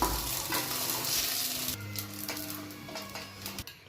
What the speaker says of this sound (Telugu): ఇంకొంచెం ఆయిల్ వేసుకొని బీరకాయ ముక్కల్ని లైట్గా ఫ్రై చేసుకున్నాము